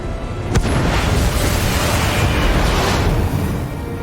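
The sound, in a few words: missile being fired and exploding in video game Batman: The Enemy Within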